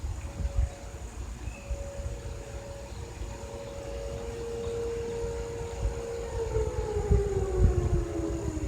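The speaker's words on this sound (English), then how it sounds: "You guys hear the tornado sirens." Civil defense tornado sirens sounding during a noon test, a long steady wail that holds then slowly falls in pitch, heard from a distance over a rumbling low background.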